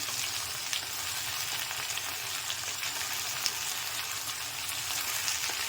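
Okra and onion fry in oil, a continuous even sizzle that stays steady and close throughout with only faint occasional stirring ticks and no voices.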